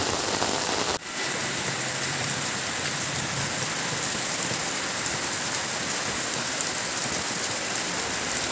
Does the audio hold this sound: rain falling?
yes